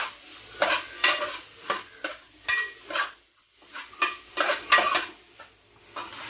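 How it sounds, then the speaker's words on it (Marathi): Grated coconut roasting in a pan while a spatula stirs and scrapes it in rhythmic bursts, close-up scratchy strokes separated by short pauses, with a light sizzle underneath. "खोबरं छानपैकी परतून घेऊया."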